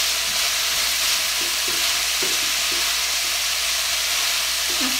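Sausage fries in a pan with a steady, close sizzle, and occasional soft scraping stirs come through over the frying hiss.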